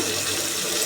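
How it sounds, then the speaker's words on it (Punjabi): Brief steady rush of water pouring into a pan of potatoes and turmeric, close and fairly loud, with no voices. "ਹੁਣ ਆਪਾਂ ਨੇ ਇਹਦੇ ਚ ਪਾਣੀ ਆ"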